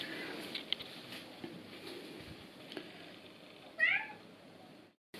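A pet cat gives one short meow near the end, faint amid quiet room noise and soft scattered rustles.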